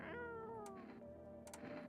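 A video game cat gives two clear, close meows, the first a long drawn-out call and the second shorter and softer, with no talking.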